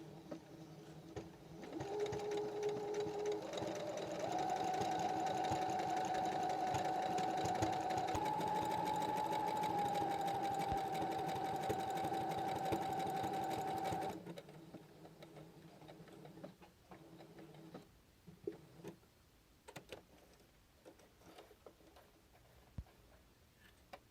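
A sewing machine stitches a buttonhole on a shirt sleeve tab, a steady fast whirring hum with a rhythmic needle clatter running for about fourteen seconds before stopping, followed by light fabric handling and small clicks.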